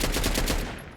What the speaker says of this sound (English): You can still shoot it pretty quick though too, even semi-auto.